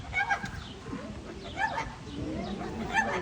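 A pet parrot vocalizes in a short series of bright, whistly, speech-like calls, several bursts across a few seconds close to the listener over a faint background.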